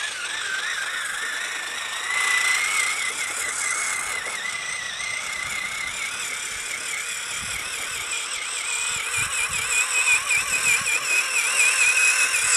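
A Traxxas Summit RC truck hauls a load of firewood, its electric drivetrain giving a steady high whine that rises and warbles as it strains under the weight, continuous and fairly close.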